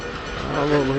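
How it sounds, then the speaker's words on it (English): A tram rolls past in the video game Dishonored, a steady rising rumble with hiss and rail-like clatter that swells toward the middle of the second and then eases, up close and alone. "What's this, a tram?"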